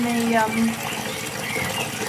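Water poured into a horse's water bucket in a stable yard, a steady rushing gush lasting the whole moment at fairly close range, with tonal traces early on suggesting background voices or noise.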